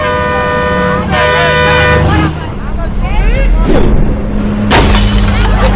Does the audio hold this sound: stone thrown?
yes